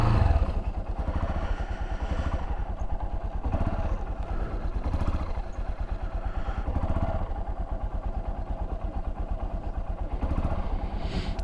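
A 2023 Honda XR150L single-cylinder motorcycle engine running with the choke on, a close, steady, rapid thumping idle that holds at an even level throughout, with no speech.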